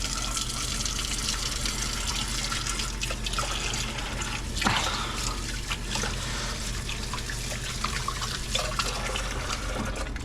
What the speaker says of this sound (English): let's wash the hands